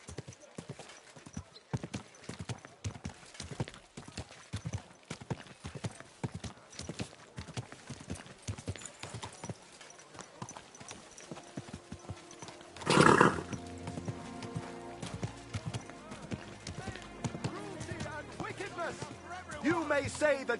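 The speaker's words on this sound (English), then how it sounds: "Easy, good horse." Horse hooves clip-clopping in the medieval video game Kingdom Come: Deliverance, a steady walking rhythm up close, a loud whinny partway through, with voices and game ambience after.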